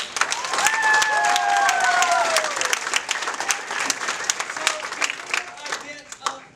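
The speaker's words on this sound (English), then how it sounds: "Ladies and gentlemen, give these guys another round of applause." A crowd applauds with steady clapping that fades into scattered claps, with a voice briefly rising over it.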